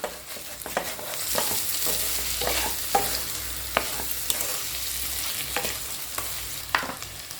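A wedding-style potato pepper fry is stirred in a hot pan. Repeated spatula scrapes and knocks sound over a steady, close sizzle, with no talking.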